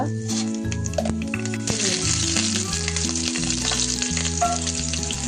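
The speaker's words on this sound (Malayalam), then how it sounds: "നമ്മൾ ആ വറുത്ത എണ്ണയിലോട്ട് തന്നെയാണ് കേട്ടോ കടുകിട്ട് പൊട്ടിക്കുക" Steady, bright sizzling of hot oil with quick spluttering pops of mustard seeds, for bilimbi pickle, continuous and close, over a background of tonal music.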